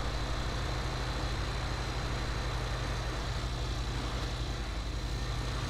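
Steady interior drone of a Mahindra vehicle being driven on a farm road, a low, even engine hum with constant road noise and no breaks, fairly quiet throughout.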